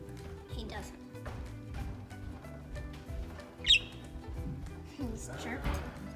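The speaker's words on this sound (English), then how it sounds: "He's chirping." A male budgie gives a short, sharp chirp partway through, along with a few fainter tweets, while a person talks nearby.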